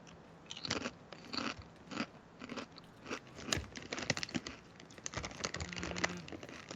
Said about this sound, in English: these are kettle chips, which are really good, but they're gonna be crunchy